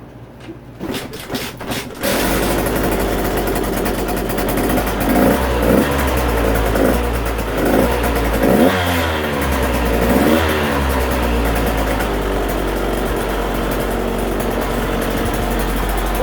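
A KTM 150SX two-stroke dirt bike with a new piston and cylinder fires up after a few cranking bursts, then settles into a loud, steady idle with a few short throttle blips.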